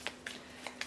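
A deck of game cards is riffled in quick, faint, close-up bursts, four short shuffling sounds, with no talk.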